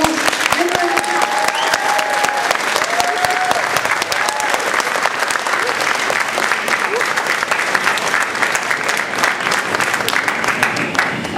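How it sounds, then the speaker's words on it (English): A large convention audience at a British sci-fi event claps loudly and continuously for guests Chris Barrie and Danny John-Jules, a dense, sustained wall of applause with a few faint vocal tones mixed in. "can we just please give our two guests a massive round of applause, Chris Barrie and Danny John-Jules."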